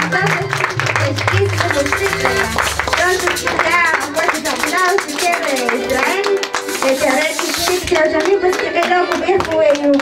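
Guests at a children's birthday party clap along loudly beneath lively music while kids and adults talk and shout over it, the clapping continuing throughout.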